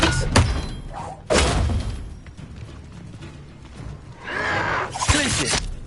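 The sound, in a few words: Expelliarmus spell effect in Hogwarts video game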